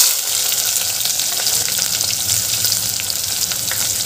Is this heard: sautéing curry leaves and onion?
yes